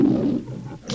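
A big cat, likely a lion, gives one sustained, rumbling roar that fills about a second, loud and close, with no talk over it.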